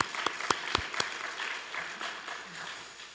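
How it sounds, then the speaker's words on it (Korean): Church congregation applause, a few sharp, distinct claps at the start that blur into softer, scattered clapping as it dies away. "우리 하나님 앞에 영광의 박수 돌리겠습니다"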